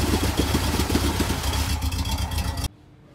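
Outboard engine on an imported used boat running steadily, its exhaust blowing out underwater, a loud close mid-pitched drone with a bubbly pulsing rhythm that cuts off abruptly near the end.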